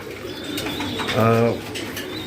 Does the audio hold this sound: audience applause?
no